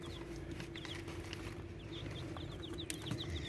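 Small chicks peep in steady, high, thin calls while chick starter is sprinkled in for them. The chirping repeats throughout, fairly faint, over a constant low hum.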